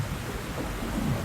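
Steady thunder rumble with rain pouring throughout, a dense, continuous storm wash from a Black Mirror III game scene, loud and unbroken with no speech.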